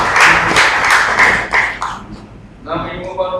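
Audience applause at a social business design lab presentation session: a dense burst of clapping that thins out after about two seconds, then a voice begins speaking.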